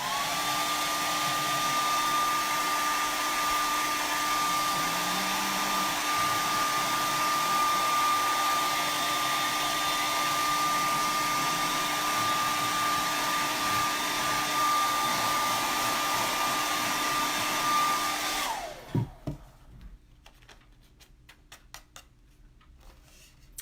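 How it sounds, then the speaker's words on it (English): A handheld hair dryer blows steadily on glued Mod Podge napkins, a loud continuous whir with a faint high whine that runs unbroken for about eighteen seconds, then cuts off and leaves only light handling clicks. "I'm going to hit mine with the hairdryer for just a minute"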